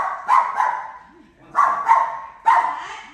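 A border collie at a dog care center in China barks three times, each a close, loud, short bark or pair of yips with brief pauses between.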